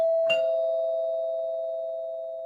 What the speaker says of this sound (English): I am going to ring the doorbell.